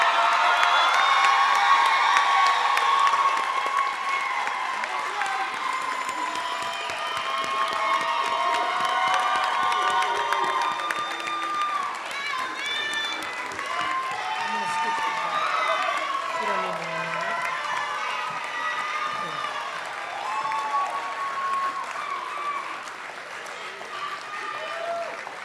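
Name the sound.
audience applause at nurse pinning ceremony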